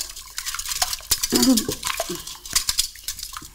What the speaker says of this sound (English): And then we're going to give it a little whisk. Just mix it all in together.